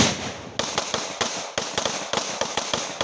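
Sharp explosive bangs from a police training exercise crack out in an irregular burst of about a dozen loud reports, each with a brief decay, close by and with no talk.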